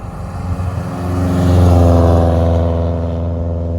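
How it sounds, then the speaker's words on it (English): A deep, throaty boxer engine rumble from inside a moving 1999 Subaru Forester, swelling as it accelerates and then settling into a steady drone. "the rumble of the EJ20 or the EJ25 can trick you into thinking that this is a very fast car"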